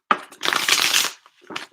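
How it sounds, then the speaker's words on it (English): A deck of tarot cards is shuffled close by, a sharp snap followed by a dense, crisp riffling burst lasting about a second, then a shorter flutter of cards. "And one last shuffle for Brissa, please."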